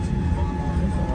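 Low, steady rumble of a passenger jet on the Dubai to Muscat flight WY 620 slowly taxiing, heard from inside the cabin as a droning hum without voices.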